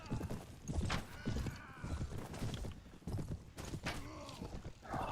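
Hoofbeats of horse archers' mounts in the Prophesy of Pendor video game, a rapid, irregular clip-clop of several horses close by, with a brief whinny near the end.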